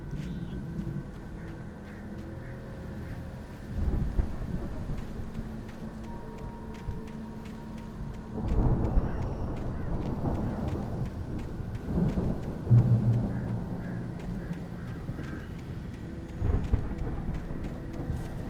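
A raging thunderstorm in the game Alan Wake Remastered, a steady wash of heavy rain with deep rolling thunder swelling several times.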